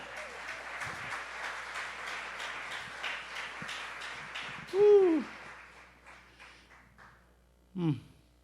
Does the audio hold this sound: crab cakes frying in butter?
no